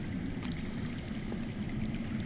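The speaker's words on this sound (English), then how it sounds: "I hear water. From underground." Underground water flowing steadily in the Game of Thrones video game, a continuous low rushing stream with a faint trickling texture, alone and unbroken.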